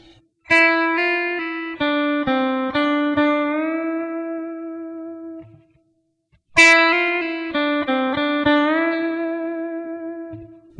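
Guitar lick built on triplets with hammer-ons and pull-offs, played twice as two quick phrases of smooth, legato notes ringing with a touch of effect and reverb, each phrase trailing off before the next.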